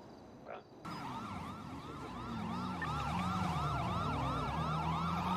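A wailing ambulance siren in a video game sweeps up and down repeatedly, fairly close and steady, rising slightly in loudness, with a low vehicle hum beneath.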